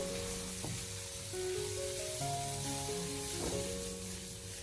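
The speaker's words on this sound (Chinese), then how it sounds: "我们将它大火进行快速翻炒" Blanched spring bamboo shoots stir-fried in a wok over high heat, a steady close sizzle with a couple of brief scraping tosses, and no voices.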